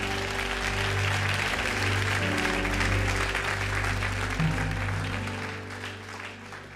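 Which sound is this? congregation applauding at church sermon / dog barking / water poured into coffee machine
congregation applauding at church sermon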